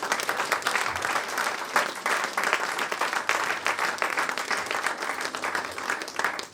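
A church congregation applauds in a dense, continuous burst of clapping that fills the room and holds steady throughout.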